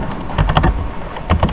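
A burst of loud, close keystrokes on a computer keyboard while typing a company name into Microsoft Word, clustered taps with a brief gap before a second short flurry.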